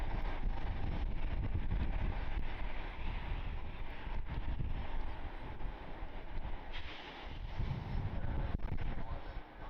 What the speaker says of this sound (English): Our Delta Airlines A320 that just touched down, came in from Atlanta a few minutes ago, will be heading over to its gate